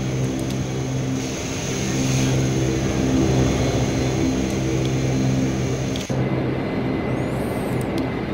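Majestic Q400 turboprop engines spooling up in a flight simulator during taxi toward the runway, a steady droning propeller hum with layered engine tones that swells gradually, heard alone.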